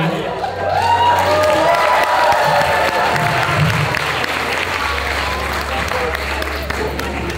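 Wedding guests applaud and cheer in a sustained, loud burst of clapping, with voices and talk mixed in throughout.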